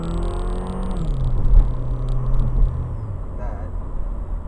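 Honda Civic engine with a cracked air intake box running close by, a steady low rumble with a slight rise in revs early on, continuous throughout.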